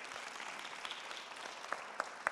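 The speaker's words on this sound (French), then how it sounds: "on peut l'applaudir." An audience at an optimism-themed event applauds a starred chef, soft, fairly distant clapping from a crowd, with a few louder individual claps near the end.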